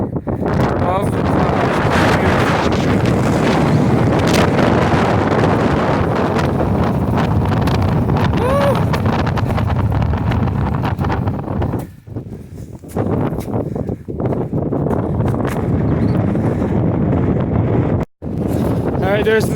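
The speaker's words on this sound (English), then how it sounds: "a bit of a wind in the Alpine zone" Strong wind buffets the microphone in the alpine zone near a mountain summit, a loud continuous roar filling the whole stretch with brief drops near the end.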